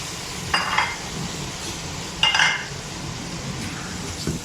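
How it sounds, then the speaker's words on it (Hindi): Mutton pieces for yakhni pulao go into a hot pot and fry with a soft, continuous sizzle, broken by a few clinks of a spoon against metal, no speech. "अब हम इस स्टेज में डालेंगे अपना मटन।"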